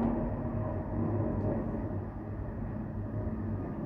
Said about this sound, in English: that's a plane. I'm pretty sure that's just come out of Gatwick.